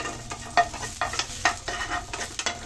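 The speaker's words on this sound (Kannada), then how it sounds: "ಪ್ಯೂರ್ ಪ್ಯೂರ್ ಕೊಕೊನಟ್ ಆಯಿಲನ್ನು ಹಾಕೊತಾ ಇದ್ದೀನಿ ಹಾಕ್ಕೊಂಡು ಲೋ ಫ್ಲೇಮಲ್ಲಿ ಚೆನ್ನಾಗಿ ಫ್ರೈ ಮಾಡ್ಕೋಬೇಕು" Egg biryani ingredients frying on a low flame in pure coconut oil, a steady close sizzle broken by regular stirring scrapes about every half second.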